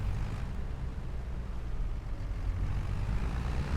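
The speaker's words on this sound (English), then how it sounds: "Holy moly, look at all that traffic coming in." Heavy truck traffic in the video game Farming Simulator 25, a continuous low engine rumble and road drone of several vehicles at moderate volume, steady throughout without speech.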